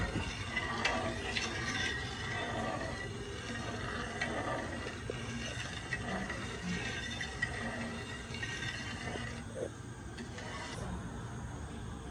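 Quince jelly mixture stirred round and round in a pot, a soft continuous swirling and scraping with faint light clinks, fairly quiet and steady with no voices.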